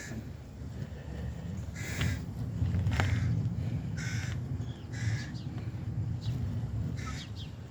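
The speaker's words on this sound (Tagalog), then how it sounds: "Yung mga ibon, pero hindi ko ibon yan." Several crows caw intermittently at a moderate distance near a playground, over a low, steady outdoor rumble, with short bursts of calls scattered through the clip.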